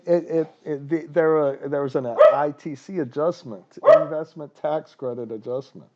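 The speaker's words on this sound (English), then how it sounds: "I'm sorry about the dog" A dog barks a couple of times in the background, mostly buried under someone speaking steadily close to the microphone.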